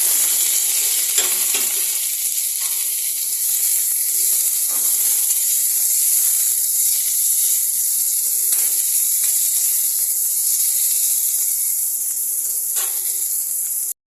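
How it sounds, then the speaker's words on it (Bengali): Tomato goes into a pan of onions fried deep red, and a constant bright sizzle and hiss carry on alone, with a few faint clinks of stirring. "এবার আমি এর মধ্যে টমেটোটা দিয়ে দিচ্ছি।"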